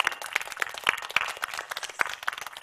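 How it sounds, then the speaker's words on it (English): An audience claps for the teachers at a school event in Alberta, a steady patter of individual claps, moderately faint and fairly distant. "let's give our teachers a round of applause"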